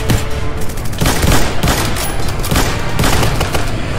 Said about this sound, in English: My teammate got shot by Golden.